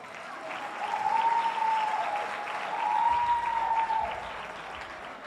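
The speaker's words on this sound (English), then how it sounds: "Let's give a round of applause" Audience applause swells and holds steady, with a dense wash of clapping from a crowd, rising again midway before easing off, while a high tonal whistle or hum runs faintly alongside.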